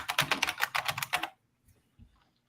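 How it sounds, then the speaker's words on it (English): Rapid typing on a computer keyboard, close and crisp, in a dense run of clicks for just over a second before stopping abruptly, leaving near silence with a couple of faint knocks. "I'm not doing good with the typing today."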